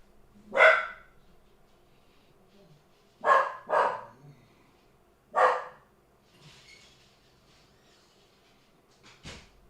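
A dog barks indoors: four loud, separate barks spread across several quiet seconds, two of them close together, then a short, fainter one at the end.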